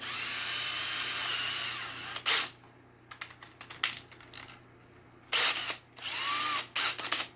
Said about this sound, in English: We're gonna chuck this thing in my drill.